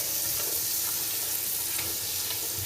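Onions fry in a pan for a spinach dish, giving a dense, even sizzle and crackle heard up close without any speech.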